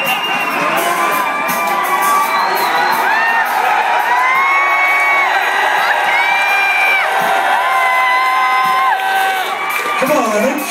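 A live rock concert crowd cheers, whoops and shouts continuously, with many overlapping voices yelling at full volume throughout.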